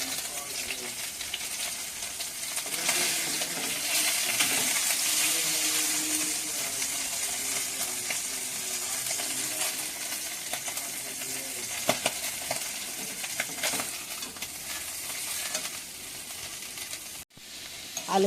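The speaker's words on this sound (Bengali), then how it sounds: "আলুগুলো লাল লাল করে ভাজা হয়ে গেছে," Potatoes frying in oil in a pan until browned, a constant close sizzle with light stirring and scraping and no speech.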